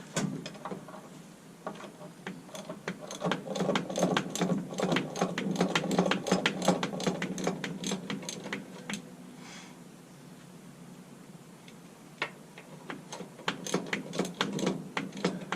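A tool clicks in rapid bursts while bolts are loosened during maintenance on a New Holland 467 haybine. The close, fast rattling runs in uneven bursts with short pauses and there is no talking.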